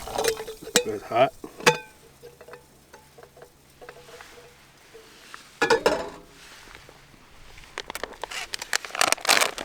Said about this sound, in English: So I've got my little spoon here. Go ahead and stir these bad boys.